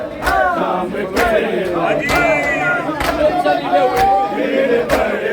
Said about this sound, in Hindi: काफिला सालार की भीड़ बढ़ती जा रही है